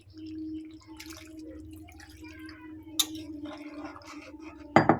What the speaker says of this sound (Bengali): আমি এতে একটু জলের জন্য অল্প করে একটু জল দেবো